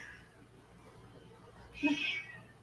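A house cat gives a single meow asking to go outside. It is fairly faint and comes near the end, over a quiet background.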